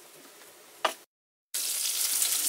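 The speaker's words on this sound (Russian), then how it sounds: "Жарится свежепойманная корюшка" Freshly caught smelt fry in a pan during a winter White Sea fishing trip, with a loud steady crackling sizzle that returns after a brief silence and a short burst.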